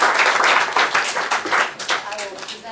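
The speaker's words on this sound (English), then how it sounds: "So, a round of applause for everybody." Close, lively applause from attendees at a county Democratic Party meeting, a burst of clapping that swells and then fades unevenly, with voices speaking under it toward the end.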